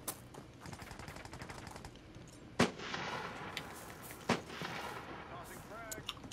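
Gunfire from the America's Army video game: rapid bursts of automatic fire early on, then two sharp, loud single shots standing out against lighter background game noise.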